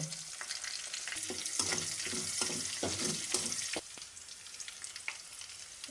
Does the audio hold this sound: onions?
yes